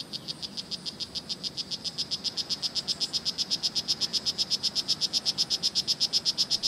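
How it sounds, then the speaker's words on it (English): Tiny red poison dart frogs (Oophaga pumilio) on Bastimentos Island, Panama, give a rapid, steady train of buzzy chirps that grows slightly louder, clear and continuous with no voices. "these frogs can produce quite a sound"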